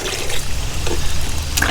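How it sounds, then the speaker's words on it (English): Rainwater trickling and splashing into a container being filled for comfrey tea, a close, continuous watery rush with small splashes, no talking. "is fill this up with rainwater"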